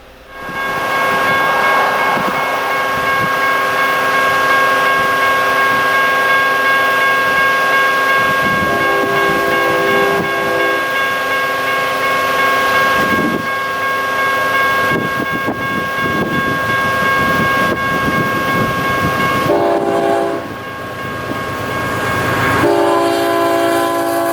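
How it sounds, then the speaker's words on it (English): A train rumbles steadily past a railroad crossing at close range for the whole stretch, with the crossing's sustained electronic bell tones held above the clatter of the cars. "this one has like, what is it, a Gen 4 e-bell?"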